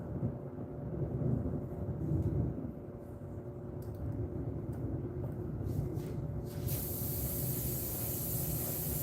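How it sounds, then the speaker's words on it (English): An airbrush spraying a light base coat of paint, a soft continuous hiss running close and steady beneath a low background rumble, with a sharper brighter spray joining near the end. "Just an amateur airbrushing here."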